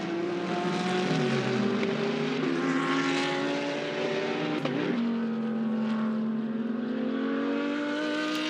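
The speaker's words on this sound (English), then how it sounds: "The green Porsche, number 1, you can see on screen, Garnett Patterson at the wheel." GT race cars at the Fanatec GT World Challenge Australia in Queensland, including a green Porsche, roar past with steady engine drone and pitch shifts as they accelerate and downshift, a continuous loud pack of engines with no talk.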